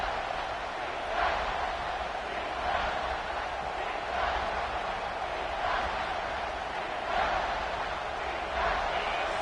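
A roaring stadium crowd in the NCAA 26 college football video game swells and surges in waves during a third-and-goal play, a dense continuous wash of noise with no clear break.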